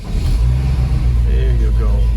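Engine of a 1969 Renault R16 car, freshly warmed up after water pump and carburetor work, held at a steady low rumbling rev, close and loud, with a voice talking over it.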